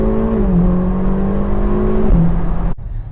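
A Ferrari California T engine revving hard with a loud exhaust, a steady droning note climbing and shifting pitch before cutting off abruptly.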